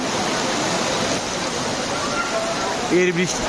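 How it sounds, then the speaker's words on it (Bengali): Heavy rain pours at midnight on the Maha Ashtami festival night, a steady, dense hiss and roar of downpour throughout, with a brief tonal sound near the end. "আজকের মহা অষ্টমী তিথির ঠিক মধ্যরাত্রিতে শুরু হয়ে গেল প্রচণ্ড বৃষ্টি।"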